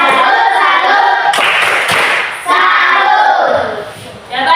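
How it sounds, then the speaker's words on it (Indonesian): A classroom of children claps in unison, a dense burst of rhythmic hand claps filling the room, with a few shouted voices over it. "Tepuk salut untuk kelompok 3"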